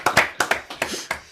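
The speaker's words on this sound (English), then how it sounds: "applause." About seven separate hand claps from a small audience, spaced and fading, close and fairly crisp, then trailing into quiet.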